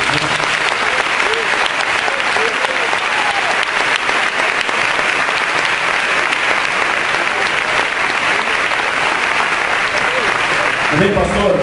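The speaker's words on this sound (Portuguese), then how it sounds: "Vamos aplaudir Jesus." A church congregation claps together in steady, dense applause lasting several seconds, loud and continuous throughout, with a voice briefly rising at the very end.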